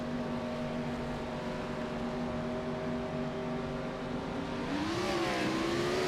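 An iRacing stock car spinning its tires in a slow crash at Dover, with a steady engine drone that rises in pitch near the end, heard alone at moderate level.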